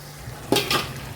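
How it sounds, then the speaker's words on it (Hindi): Beef stir-frying in a pot for Peshawari pulao, with a brief scrape of a spoon and a hiss of sizzling meat over quiet kitchen background, close and short. "चलिए ये जो गोश्त है ये शामिल करें, जो हमने गला लिया। 2-3 मिनट के लिए इसे भूनेंगे"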